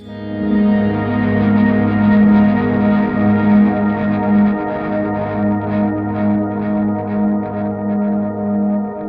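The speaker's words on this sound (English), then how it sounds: "I kick on that favorite sort of really long shimmer sound on the Blue Sky with the swell" A long, shimmering reverb swell from a Strymon Blue Sky pedal, bright sustained tones blooming and slowly pulsing as they hang in the air.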